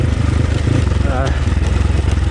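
A Moto Pro RR300 motorcycle engine chugs loudly and steadily while being ridden, with a close, pulsing throb and a slight rise in revs midway.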